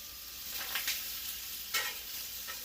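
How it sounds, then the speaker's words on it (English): Steady, crackling sizzle of pork chops frying on a hot griddle, with a couple of brief scraping stirs. "Sounds like you got a good sizzle going. Yep, I can hear the sizzle."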